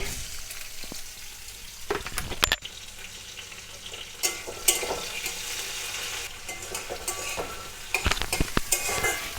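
Raw shrimp tossed into cooking taro in a pan, with steady sizzling and frying and repeated utensil scrapes and clinks while stirring, fairly soft and close, with no voices.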